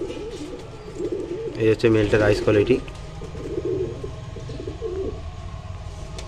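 A male pigeon coos softly in a loft, its low rolling calls mixed in with someone talking nearby.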